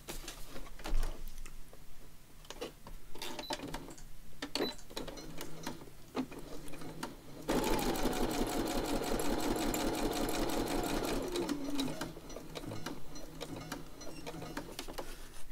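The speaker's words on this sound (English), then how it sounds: "I'm going to stitch around this" A sewing machine stitches around a paper junk journal page: short stop-start bursts at first, then a sustained, fast whirring run of several seconds before slowing back into intermittent stitches.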